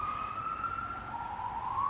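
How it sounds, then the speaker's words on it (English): An ambulance siren wails steadily out on the street, its sustained rising and falling tone carrying clearly over the faint hum of traffic for the whole stretch. "There's a lot of ambulances coming up and down the street now"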